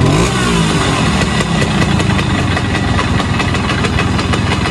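A Simson S51 Comfort motorcycle engine with a sport exhaust runs steadily close by, a loud continuous idle with a rough, throbbing putter that barely changes over the whole stretch.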